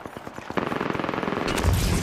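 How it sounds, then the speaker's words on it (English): Automatic gunfire from a shooter video game rattles out in rapid bursts, growing louder and denser after the first half-second with heavy low booms near the end. "Getting shot at. Opening fire."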